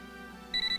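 A telephone rings with a bright electronic double-tone that starts partway through, pulsing in short repeated bursts over a low room hum, close and clear.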